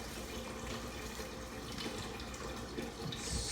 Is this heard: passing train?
no